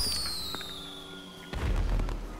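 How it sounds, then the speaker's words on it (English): Fireworks in a video game: a high descending whistle trails off before a sharp burst of crackling booms erupts near the end, loud and close with no talking. "Fireworks battle."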